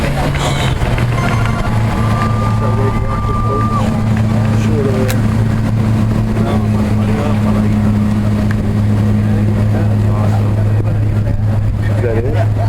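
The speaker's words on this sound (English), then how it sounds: "Hear those diesel engines?" Diesel engines of a special operations boat drone steadily and loudly at a demonstration on the water. The deep hum holds throughout while people talk over it.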